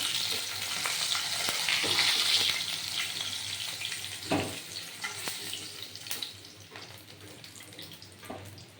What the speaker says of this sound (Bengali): এবার আমি এই তেলের মধ্যে জিরে আর দুটো তেজপাতা ছিঁড়ে দিয়েছি